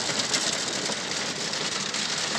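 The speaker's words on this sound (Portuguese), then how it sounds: "A chuva caindo aqui, ó." Heavy downpour in Sobradinho, Bahia, by the São Francisco river, a steady dense hiss of rain that holds at the same loud level throughout with no voices.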